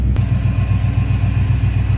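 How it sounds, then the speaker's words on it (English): A 1986 Chevrolet Camaro Z28 with a TPI 305 V8 idles with a steady, loud low rumble and a rhythmic, pulsing exhaust beat that continues evenly throughout. "Nice little rumble coming out of TPI 305 V8."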